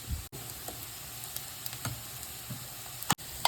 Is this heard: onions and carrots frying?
yes